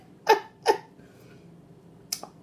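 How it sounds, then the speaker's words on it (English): Two quick throaty burps in a row, close and fairly loud, followed after a pause by a softer short gulping sound, in a quiet room with no talk. "Give me some good burps."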